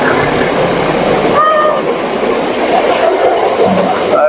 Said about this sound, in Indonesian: Tuh ada kereta juga ya di sini.